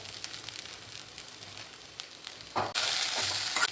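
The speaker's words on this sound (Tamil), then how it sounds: "இப்போ வெண்டைக்காயை சேர்த்து மறுபடியும் நல்லா வதக்கணும்" Okra (lady's finger) is sautéed with onions in a pan. A soft, steady sizzle with light stirring swells abruptly into a loud, hissing fry near the end.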